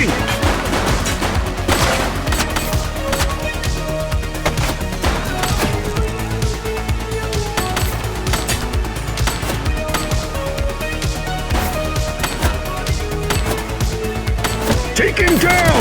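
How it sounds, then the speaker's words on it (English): Sustained gunfire in the video game The Precinct crackles as rapid, dense bursts of shots through most of the stretch, loud and close amid game sounds, with voices talking over it. "He's shooting!"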